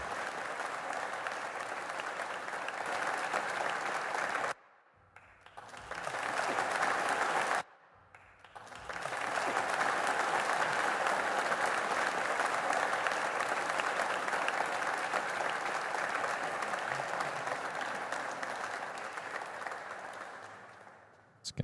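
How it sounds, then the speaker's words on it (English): Applause from a live concert crowd in Melbourne, a broad sustained roar of clapping that cuts out abruptly twice before surging back and running on steadily, then tapering off at the end. "another round of applause for Mr. Paul Williamson"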